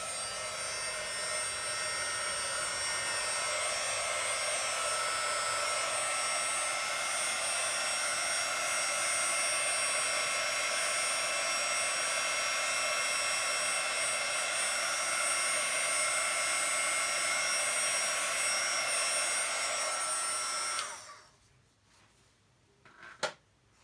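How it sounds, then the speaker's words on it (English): A heat gun blows steadily and loudly for about 21 seconds during a hair serum test, a broad continuous whoosh with a faint hum, then cuts off, leaving near silence and one small knock. "Gonna get my heat gun."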